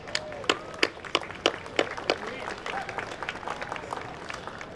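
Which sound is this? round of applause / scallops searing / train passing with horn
round of applause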